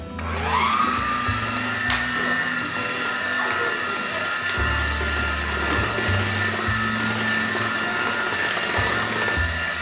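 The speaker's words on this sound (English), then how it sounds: "Pass me my mixer, please. Alright, and just mix all that up." An electric hand mixer whirs steadily through rum cake batter, a continuous motor drone with small shifts in pitch as it works the bowl, close and fairly loud.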